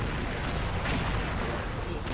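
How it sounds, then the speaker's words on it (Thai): Grenades are thrown in rapid succession in a video game stage filled with robots, producing a dense, continuous rumble of overlapping blasts with no clear pause between them. "เราก็ปาระเบิดรัวๆแล้วครับ"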